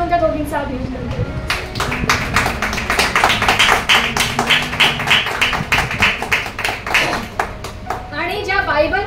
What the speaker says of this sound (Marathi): आपण टाळ्या वाजवून त्या दोघींचा अभिनंदन करू